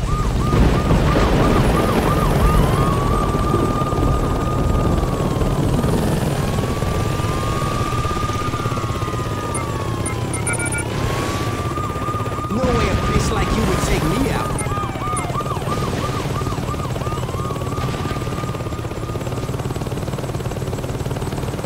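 Helicopter flying in the video game Saints Row 2, a continuous rotor drone under repeated rising and falling warbling tones, with occasional sharp bursts like gunfire mixed in throughout.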